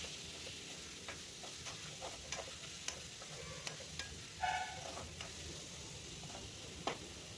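Chicken pieces with chilli powder and salt frying in a pan, stirred with a utensil: faint scattered scrapes and taps over a low, steady sizzle, with no voices.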